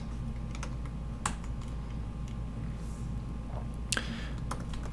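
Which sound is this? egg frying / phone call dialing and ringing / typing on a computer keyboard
typing on a computer keyboard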